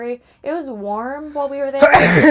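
A single sharp sneeze bursts out close to the mic right after a woman's speech, loud and abrupt, with her talking continuing on both sides of it.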